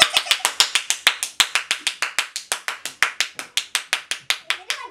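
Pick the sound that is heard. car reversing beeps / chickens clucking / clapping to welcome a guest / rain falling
clapping to welcome a guest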